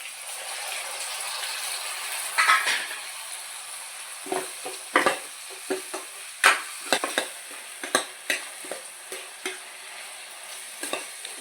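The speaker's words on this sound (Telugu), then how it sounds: "టమాటా వేగుతుందండి." Tomatoes fry in a pan with onions and green chillies for a prawn and ridge gourd curry, a steady soft sizzle broken by repeated sharp scrapes and clicks of a stirring spoon.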